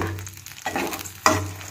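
Ginger gojju paste cooks in oil in a pan with a continuous close sizzling and bubbling, broken by a couple of stirring scrapes, with no one speaking.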